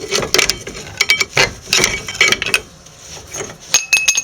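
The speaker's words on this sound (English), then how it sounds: "Now I'll take the brake pads out." Metal brake pads and shims from a 2000 Subaru Impreza caliper clink and rattle in a series of sharp, close taps and knocks during removal, with no talking.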